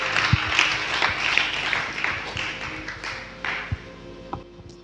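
Church congregation applauding and acclaiming the Lord during a revival service, a diffuse wash of crowd clapping and cheering with scattered sharper claps, steady throughout without a single voice standing out.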